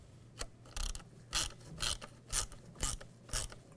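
A ratchet snugs fasteners on a plastic tailgate handle bezel of a 2007-2013 Chevy Silverado 1500, giving a quick series of about seven close, crisp clicking bursts at a steady rhythm.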